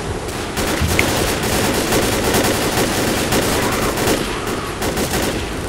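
Continuous automatic gunfire in the zombie shooter Left 4 Dead, dense rapid bursts of shots running the whole time with no voices.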